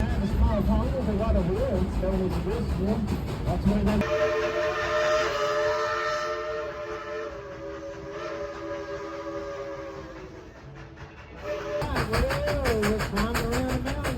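A sightseeing train rolls around an amusement park, its long steady whistle sounding for several seconds, while music or voices are heard before and after.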